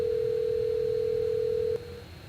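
A telephone tone comes through a cable as one steady, loud, pure tone held for almost two seconds, then cuts off abruptly, leaving a faint hum behind.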